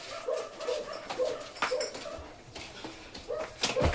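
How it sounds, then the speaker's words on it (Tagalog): Dog on a farm barks in short bursts with soft whimpers and yips between them, fairly faint and a little distant, with no talk. "Aso si Mar, oh."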